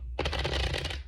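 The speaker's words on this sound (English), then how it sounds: "I do split my deck in half to shuffle it because I have little hands" A tarot deck split into two halves is riffle-shuffled in one quick, close burst of rapid papery flutters lasting about a second, with the cards snapping together at the end.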